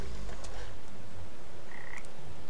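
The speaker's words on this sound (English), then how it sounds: "I don't want to waste my last frog." Frog croaks from the video game Papo & Yo, low and throaty, set in a dense, steady game soundscape with no speech.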